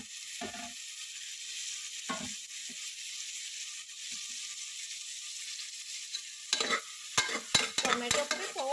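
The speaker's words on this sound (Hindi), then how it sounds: "टोमेटो को भी थोड़ा सा फ्राई कीजिए सॉफ्ट होने तक" Onions and tomatoes fry in a pot for cooker dal, making a steady sizzle broken by several clattering stirs with a utensil, busier near the end.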